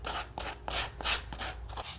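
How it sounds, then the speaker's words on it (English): A sanding block is rubbed over a wooden craft blank to rough up the ends for a rustic look, a close, quiet abrasive scratching in about six quick back-and-forth strokes with brief gaps between them. "So I like to use a sanding block. So I'm just gonna sand away."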